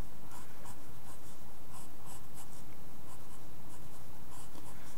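Pencil strokes while drawing a manga character's arm, a steady close scratching with repeated light strokes, heard alone with no talk.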